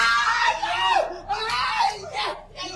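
A man screams in ghost video footage, with repeated harsh, strained cries in close succession filling the short stretch, interspersed with odd laugh-like bursts.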